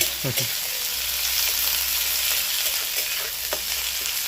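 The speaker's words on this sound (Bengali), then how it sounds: "একদম কুচি কুচি করে কাটা পেঁয়াজটাকে পুরো ভেজে নিতে হবে একদম লালচে করে" Finely chopped onion fries in a pan for masoor dal, a steady close sizzle running throughout with a few brief stirring scrapes near the start and later on.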